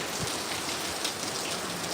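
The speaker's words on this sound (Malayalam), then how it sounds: "മഴ ഇങ്ങനെ കണ്ടിന്യൂസ് പെയ്യുമ്പോൾ ക്ലൈമറ്റ് മൊത്തം ചേഞ്ച് ആവും" Monsoon rain falls steadily in Kozhikode, Kerala, with a dense, even patter on surfaces heard up close and no voices.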